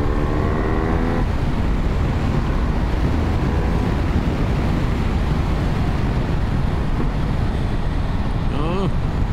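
A BMW R 1250 R motorcycle is ridden along a country road. Continuous loud engine drone mixes with heavy wind buffeting at the microphone for the whole stretch, steady and close.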